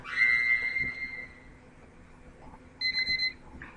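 An alarm clock going off with a shrill electronic beeping tone, a sustained ring at first, then after a pause a quicker pulsing series of beeps, fairly close in a quiet room.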